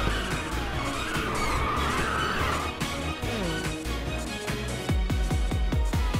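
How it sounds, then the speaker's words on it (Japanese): A car drifts in the Ridge Racer 2 racing game on PS5, with continuous loud engine roar and tyre squeal under game music, closing with a run of rhythmic percussive hits. "いいドリフトね"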